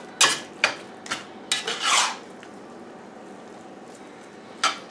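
Ground beef browning in a hot pan as it is stirred and broken up with a utensil: a few distinct scraping, rasping strokes close by, spaced apart, with quiet sizzling between them.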